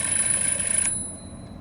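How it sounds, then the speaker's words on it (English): An alarm clock rings as a sound in a guessing game, a bright continuous metallic ringing that cuts off abruptly partway through, leaving a faint thin tone and low background hum. "Alarm clock. Alarm clock."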